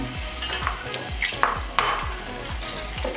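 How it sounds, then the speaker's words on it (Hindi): Capsicum and onion fry in hot oil in a pan for chicken jalfrezi: a steady sizzle runs throughout, with rhythmic stirring scrapes and occasional utensil knocks against the pan. No one speaks. "अब इसमें शिमला मिर्च और प्याज डाल देंगे और 1 से 2 मिनट के लिए इसे सिर्फ फ्राई करना है"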